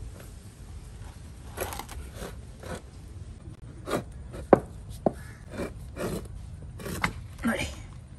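A knife chops through jackfruit barfi, a coconut-based sweet, on a board, giving a series of irregular soft thuds and scrapes, with a few sharper cuts standing out, close by and moderately quiet.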